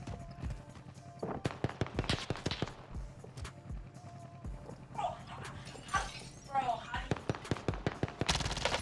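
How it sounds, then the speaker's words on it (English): Rapid gunfire from an AUG rifle in Call of Duty: Warzone, a dense string of sharp shots with short pauses between bursts, mixed with people talking. "We're being engaged. I'm taking fire."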